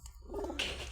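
Pigeons coo softly with a low, rolling murmur in an outdoor loft setting, joined by a brighter burst of rustling or wing noise near the end; the sound is close and continuous over one second.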